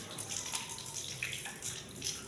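Water splashing and running steadily while both feet are washed for wudu, a continuous close pour with small splashes throughout, no talking.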